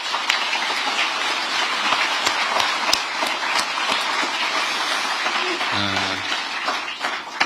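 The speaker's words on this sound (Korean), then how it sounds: "우리 동료들을 위해서 박수 한번 부탁드립니다." A room of government officials and staff clapping for colleagues after a speech, a continuous broad patter of applause with scattered sharper claps, steady in level, and a brief low voice-like sound near the end.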